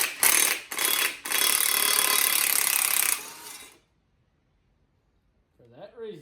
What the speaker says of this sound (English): Now watch your feet when you go to take this last bolt out of here